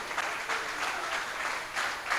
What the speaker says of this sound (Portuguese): aplaudir o Senhor bem forte